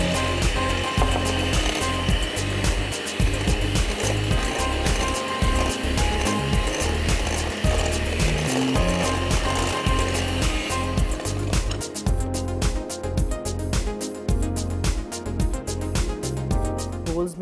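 A kitchen mixing machine runs with sugar in it for a brownie recipe, a loud, dense, continuous whirring grind that steadies and thins out partway through.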